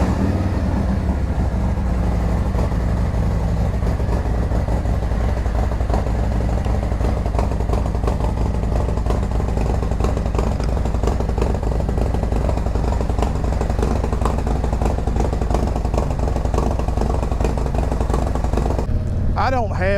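A motorcycle engine runs loud and close, warming up ahead of a Dynojet PV4 auto tune after a cam change, with a steady rumbling idle that continues throughout and barely changes.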